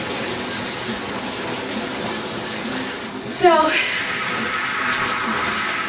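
Shower water runs steadily as a broad hiss, briefly shifting when a single word is spoken over it, then continuing evenly and close by.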